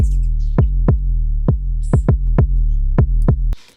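An 808 sub bass layered with a punchy kick knock: about ten deep booming hits in a loose rhythm, each with a sharp attack and a short sliding low tail, loud and alone.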